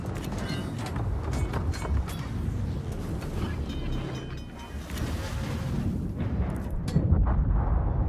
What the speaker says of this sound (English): And Georgia lands the big airstrike to finish off Alf.